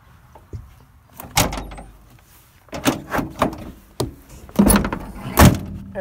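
Several heavy doors of a 1987 Dodge B350 camper van slide and thud shut one after another, close by, with short gaps between the bangs.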